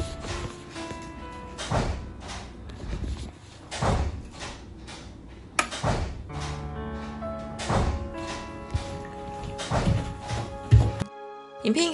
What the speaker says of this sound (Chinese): 也可以明显听到地下室有人在甩门的声音